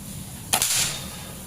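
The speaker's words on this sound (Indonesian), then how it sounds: "Tembakan pertama yang metal siluetnya dulu, yang kecil bagian tengah." An air rifle, a stainless mini bullpup at 2700 PSI, fires a single sharp shot at a small metal silhouette target, a quick crack with a faint ring after, at moderate loudness over quiet background hum.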